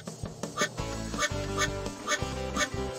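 Cartoon duck quacking in a children's monster-truck show, a quick series of loud, nasal quacks repeating in a bouncy rhythm over light background music.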